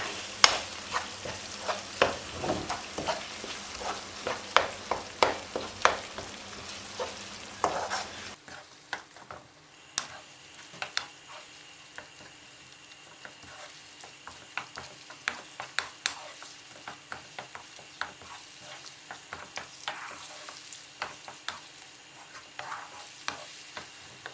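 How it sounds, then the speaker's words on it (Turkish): Chili flakes and whole cumin seeds sautéing in olive oil for lentil köfte, a soft continuous sizzle with frequent light spoon scrapes and taps against the pan, quieter after the first few seconds, no voices. "Şimdi bunları da güzelce kavuracağım."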